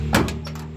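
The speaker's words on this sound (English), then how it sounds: "the door closes kind of like a gun safe, nice and solid closing" The door of a 1969 Ford F100 pickup shuts with one solid, heavy thunk up close, followed by a brief rattle and a steady low engine-like hum underneath.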